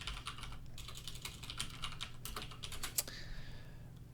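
Rapid, close keystrokes clatter on a computer keyboard in uneven bursts as a folder name is typed, ending in a sharper single key press, with no one speaking.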